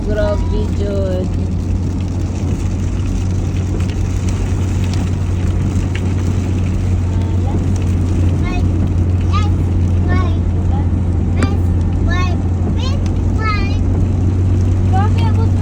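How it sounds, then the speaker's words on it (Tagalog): Heavy rain pounds a car driving on a road in Bukidnon, a dense, steady roar of rain and engine rumble throughout, loud and close, with people talking over it. "Grabe ka uwan guys."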